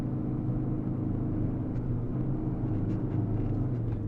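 A vehicle drives slowly over soft beach sand, giving a steady low engine rumble and drone that stays close and even throughout, with no voices.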